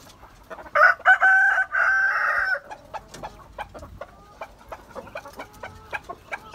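Free-range village laying hens and a rooster on a farm: one loud, drawn-out crow near the start, then a run of short, scattered clucks close by, with no talk.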